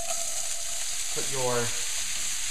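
Diced vegetables sizzle steadily in a frying pan, a soft continuous crackle with one brief stirring scrape and a few spoken words over it.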